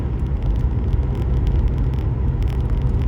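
An Audi A4 B7 1.8T with a CVT automatic climbs a highway hill at about 2000 rpm in seventh, a loud, steady engine and road rumble heard from inside the car with no breaks.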